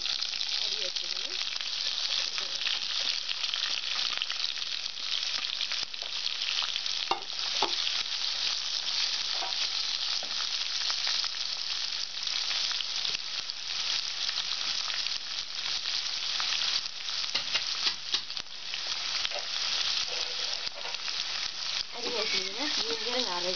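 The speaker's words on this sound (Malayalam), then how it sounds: "കടുക് പൊട്ടി കഴിയുമ്പോൾ സവാള അരി വെച്ചിരുന്നു" Sliced onions frying in oil after mustard seeds have spluttered, a steady bright sizzle that runs throughout with occasional stirring clinks, close and even.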